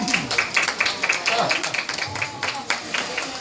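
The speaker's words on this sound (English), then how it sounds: "you guys can clap for them" Audience applause at a SeaWorld killer whale show, a dense rattle of clapping from a large crowd in an outdoor stadium, with a voice talking over it and a thin whistle tone near the middle.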